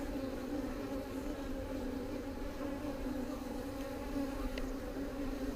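Honey bees hum steadily at an opened beehive, a dense, continuous buzzing swarm close by with no breaks, filling the whole stretch without voices.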